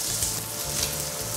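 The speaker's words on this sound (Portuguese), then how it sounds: "A nossa couve-flor, como vocês podem ver, ela tá tostando aqui na panela." Cauliflower with chopped garlic toasting in a pan gives a steady, close sizzle with a crackling hiss that runs without pause and with no talk over it.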